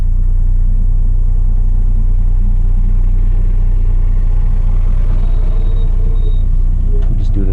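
A 9th-generation Honda Accord running E85, driven in drive with traction control on, holds a loud, steady low engine drone that climbs gently in pitch near the end as it begins to pull, heard from inside the car.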